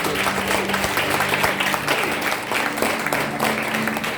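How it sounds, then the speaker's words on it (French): Audience applauding at a French-speaking ceremony honouring group members, dense steady clapping filling the room, loud and sustained without a break. "Sous vos applaudissements"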